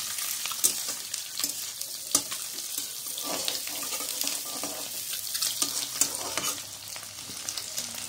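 Egg whites fry lightly in a pan for egg curry, giving a continuous, even sizzle with small crackles and occasional scraping stirs, close and steady throughout.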